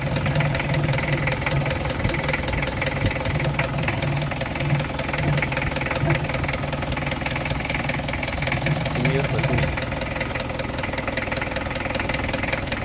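A 1999 Mitsubishi Kuda GLS diesel engine idles with a steady, rough mechanical rumble and faint knocking, close and fairly loud throughout.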